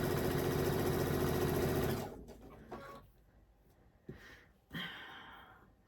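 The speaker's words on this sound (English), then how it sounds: "we're just going to come in here and stitch and flip these" A sewing machine runs in a steady, loud, buzzing burst for about two seconds while stitching quilt block pieces, then stops, followed by a few soft handling clicks and rustles.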